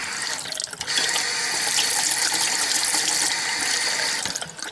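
Water rushes steadily through an RV water filter and an in-line Valterra pressure regulator. The hiss is loud, close and continuous, starting after a brief softer onset and easing slightly near the end.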